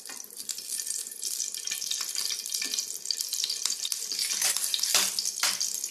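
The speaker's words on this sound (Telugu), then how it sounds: "నెయ్యి మెల్ట్ అవుతూ ఉంటుంది" Two spoons of ghee melting in a hot pan, a steady bright crackling sizzle that holds throughout and swells near the end, close and fairly loud with no talk.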